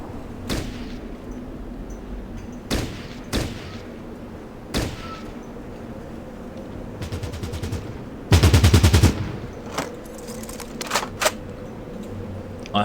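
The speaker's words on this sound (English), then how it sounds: "I heard a second machine gun, and I'm not sure from where." Machine gun fire in the video game Fallout Tactics: scattered sharp single shots, then a rapid automatic burst and one heavier, louder volley near the end, over a low ambient background with no talk.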